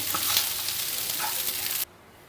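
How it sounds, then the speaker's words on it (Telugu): Cooked rice is stirred with a sizzling tempering for pulihora in a hot pan, a close, even frying hiss with light scraping that cuts off abruptly after about two seconds. "ఈ పోపు అంతా అన్నంకి పట్టే విధంగా కలుపుకోవాలి."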